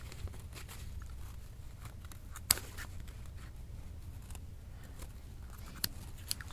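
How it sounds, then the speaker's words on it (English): Scissors cut the thread holding a sewn-on button, giving a couple of small, sharp snips against a quiet room. "So I'm going to cut this button off"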